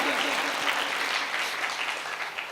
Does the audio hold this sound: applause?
yes